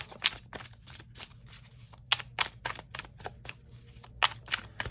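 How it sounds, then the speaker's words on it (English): Close, crisp riffling and slapping of a tarot card deck being shuffled in quick irregular bursts, with a few louder snaps, and no talking. "we'll do 2 more shuffles here"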